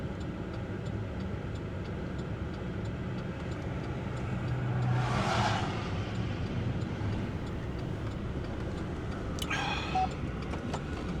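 Road traffic passes along a street beside a snowy driveway, a steady low rumble with one vehicle swelling close by and fading, then a brief faint high-pitched squeak near the end.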